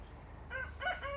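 Chickens cluck and call in short bursts over a low background rumble, with a couple of brief crowing-like notes close by.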